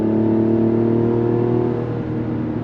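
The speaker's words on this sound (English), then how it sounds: "You can hear that straight six doing its thing." Inside a 2024 Mazda CX-90 Turbo on twisty roads, the straight-six engine hums and revs with a smooth, steady tone, loud and continuous, easing slightly toward the end, with no talk.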